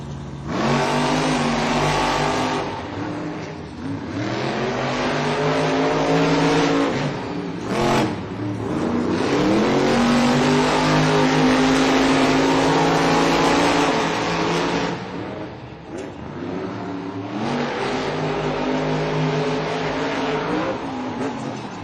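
Monster trucks race in a stadium at a Monster Jam event in San Diego, with loud roaring, revving engines rising and falling in long pulls and a brief drop in the middle, heard without talk.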